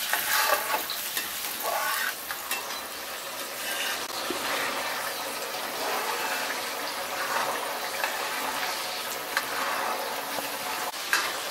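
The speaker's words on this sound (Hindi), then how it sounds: "ये मसाला हमको तब तक भूनना है जब तक कि मसाले से तेल अलग नहीं हो जाए" Spice masala frying in hot oil in a pan for green chickpea curry, a continuous loud sizzle with stirring scrapes and sputters running steadily throughout.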